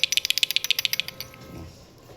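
A worn, loose car ball joint rattles as it is wobbled, giving a fast, even series of sharp metallic clicks, about fifteen in a row, close up, then fading to a faint rustle.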